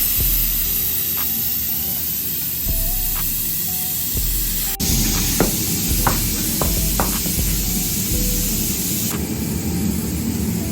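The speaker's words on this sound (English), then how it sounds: "Deflating all the tires." Steady broadband hiss of air escaping a truck tire valve as the tires on a Ford F250 are let down for 37-inch Toyo M/T swaps, continuous and close throughout with faint tonal hum underneath.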